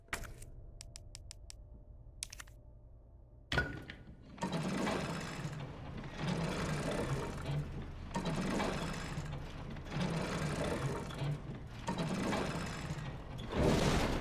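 A crank tool turns a mechanism in the Resident Evil 2 Remake video game. After a quiet start, it gives five regular bursts of ratcheting mechanical grinding, each lasting about a second or two with brief pauses between.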